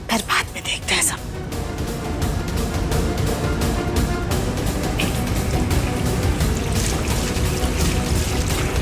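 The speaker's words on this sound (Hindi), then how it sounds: "पहले मुंह में थोड़ा सा पानी मार लेते हैं" Water splashed onto a face by hand, a few quick wet splashes at the start followed by trickling water, heard over a steady background bed with a voice present.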